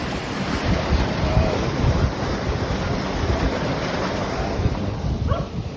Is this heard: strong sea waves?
yes